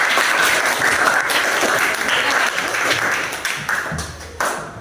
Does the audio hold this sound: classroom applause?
yes